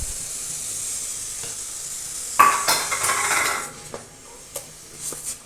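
Cumin seeds and green chillies hit hot oil with a sudden crackling sizzle midway, followed by a few sharp clinks of a utensil against the pan and a fading hiss, heard up close without any voices.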